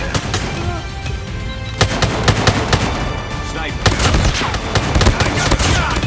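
Rapid gunfire bursts and single shots crack through a Call of Duty Mobile match, loud and close, with heavier volleys near the start and again toward the end over continuous game ambience.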